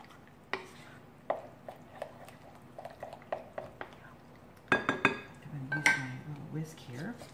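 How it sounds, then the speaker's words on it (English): Mashed sweet potato, eggs and syrup mixed in a bowl for plant-based quick bread: a run of sharp utensil knocks and clinks against the bowl, growing busier and louder toward the end, with speech in between. "I'm gonna go ahead and mix this together"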